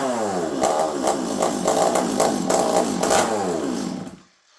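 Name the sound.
chainsaw running without a muffler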